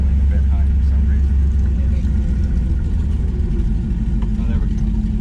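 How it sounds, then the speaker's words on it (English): A 1966 Dodge Dart GT with a 273 engine idles a little high, giving a steady, close, low rumble that stays even throughout with no revving. "She is idling a bit high for some reason."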